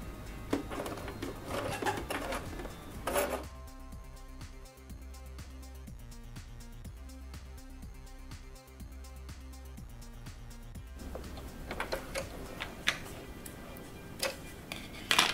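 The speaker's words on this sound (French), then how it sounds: "je vais vous prendre la connaissance d'un point triple élastique. Il sert bien pour les tissus qui se tirent, pour les tissus stretch." A home sewing machine runs a triple elastic stretch stitch. The stitching forms a steady, rapid mechanical ticking that lasts several seconds. Rustling and handling sounds come before and after it.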